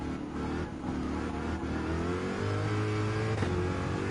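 A Group 3 race car engine in Gran Turismo 7 at Le Mans drones loudly and steadily, the revs climbing in a smooth sustained pitch with a brief shift blip near the end, no talk.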